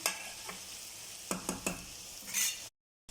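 Okra and beetroot fry in a pan with a soft sizzle under several quick stirring scrapes, ending abruptly in silence.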